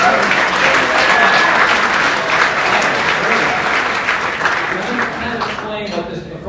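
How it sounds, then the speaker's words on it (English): Sustained, loud applause from an audience at the 2023 Best Places to Work awards event, steady broadband clapping filling the room for several seconds and easing slightly toward the end. "applause."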